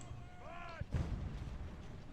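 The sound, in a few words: artillery shelling in Ultimate Admiral: Age of Sail video game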